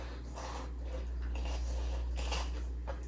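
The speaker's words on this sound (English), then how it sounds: "now you're going through with that leading edge of the knife" A knife's leading edge slices through a fish's flesh during filleting, producing soft, wet, intermittent cutting strokes over a constant low hum.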